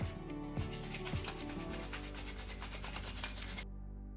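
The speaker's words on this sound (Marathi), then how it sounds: "साखरेमध्ये थोडे खडे आहेत म्हणून मी गाळून" Sugar sifted through a sieve for urad dal ladu: a steady close rubbing, rasping scrape with a rhythmic back-and-forth pulse, stopping abruptly near the end.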